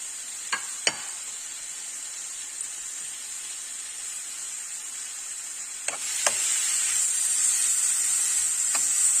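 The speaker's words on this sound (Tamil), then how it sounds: "இந்த நெய்யிலே நல்லா வதங்கணும்" Cut bananas sautéing in ghee in a hot pan give a steady sizzle that swells louder partway through, with a few sharp utensil clicks and stirring taps; no talking.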